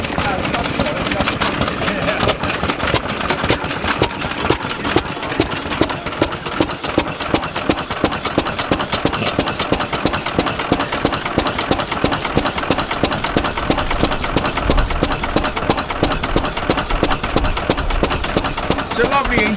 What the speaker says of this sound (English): Or see him starting his engine anyway.